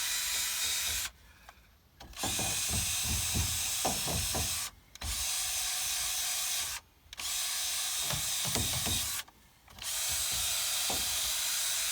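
Small handheld belt sander whining steadily as it cleans out an Anderson hitch, running in four long bursts separated by brief pauses, close and loud.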